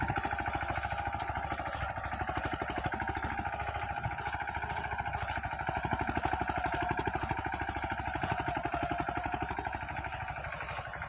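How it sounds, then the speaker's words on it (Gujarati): A mini tractor engine runs steadily while ploughing a field, a close, continuous mid-pitched chugging drone with fast regular firing pulses that holds an even loudness throughout, with no talk over it. "અમારું મિની ટ્રેક્ટર ચાલે છે"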